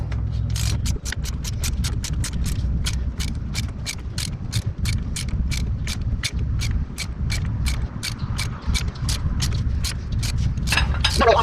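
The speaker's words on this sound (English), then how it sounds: "Now I'm going to ratchet this on." A ratchet wrench drives a very tight nut onto the high/low shifter piston of an Eaton Fuller 10-speed truck transmission, giving a steady run of close, loud, evenly spaced clicks that fill the span alone.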